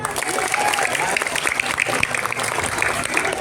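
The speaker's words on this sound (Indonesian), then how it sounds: "Ya, tepuk tangan dulu." Young children clap together at a morning Christmas celebration, a continuous, fairly loud patter of many small hands that holds evenly from start to finish.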